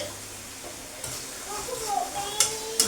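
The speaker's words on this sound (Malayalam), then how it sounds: "വെളുത്തുള്ളിയും കൂടി ഇട്ട് നമ്മൾ നന്നായി വഴറ്റിയെടുക്കുന്നുണ്ട് കേട്ടോ. നമുക്ക് ഇളക്കി കൊടുക്കാം." Garlic and spices sauté in a pan for a village-style pappadam curry, giving a soft sizzle with a few clinks and stirring scrapes, moderately quiet throughout.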